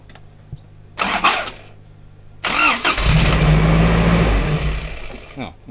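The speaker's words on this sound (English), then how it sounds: "I'll give it a crank in a second." A sick Toyota 22R engine cranks in two bursts, then catches and starts, settling into a loud, rough, close running roar; a brief voice is heard before cranking.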